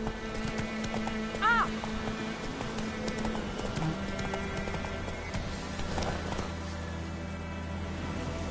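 Roach the horse gallops in The Witcher 3, with rhythmic, close hoofbeats running throughout and a short whinny early on.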